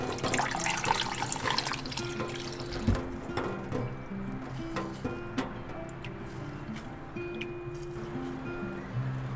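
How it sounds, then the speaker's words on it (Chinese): Thawed frozen tofu gets washed and squeezed under a running tap in a kitchen sink, a close, steady splashing stream with gurgles, drips and a few soft knocks, no voices. "用清水清洗，并反复的挤出里面的水分"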